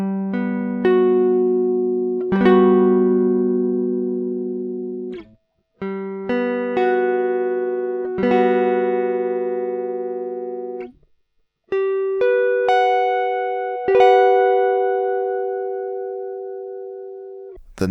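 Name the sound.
guitar chord shape played in every position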